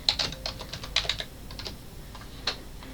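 Quick bursts of key clicks on a computer keyboard as a name is typed, close and light, in short irregular clusters followed by a single tap.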